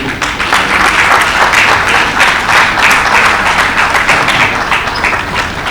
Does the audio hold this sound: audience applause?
yes